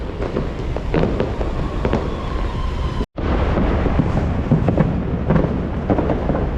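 Fireworks bursting for New Year in a parking lot at SM Clark Hypermarket, a dense continuous barrage of overlapping booms and crackles with a brief cut near the middle, no talking.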